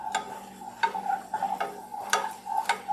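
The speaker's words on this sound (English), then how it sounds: "you're just heating and stirring, and then there's all that foam on the top" A cornbread mixture heated and stirred in a pan, with a spoon scraping and tapping in a steady rhythm of roughly one stroke every half second over a faint, constant sizzle.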